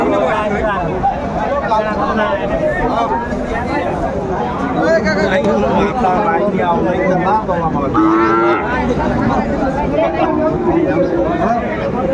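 Cows moo repeatedly amid a busy cattle market in Aftabganj, with loud crowd chatter and voices bargaining close by throughout.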